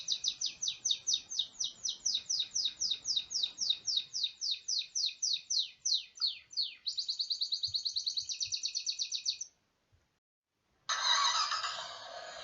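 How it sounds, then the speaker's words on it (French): A small bird chirps in a fast, steady series of bright high notes, switching to a rapid trill, then a brief pause before another burst. "le son de l'oiseau est agréable"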